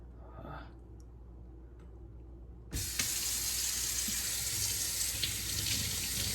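A kitchen sink tap is switched on partway through and runs steadily over salted kelp being rinsed, a loud, continuous splashing rush that follows a few seconds of quiet room tone.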